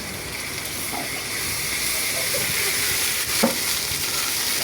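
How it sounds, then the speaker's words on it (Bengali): Onions browning in oil with ginger paste just added, cooked village-style on an open clay stove, producing a loud, steady hiss and sizzle with a few brief scraping stir sounds. "পেঁয়াজটা একটু ভালো করে একটু করে নিয়ে ভালো করে একটু ভাজা ভাজা বাদামি কালার এবার দিয়ে দিলাম আদা বাটা"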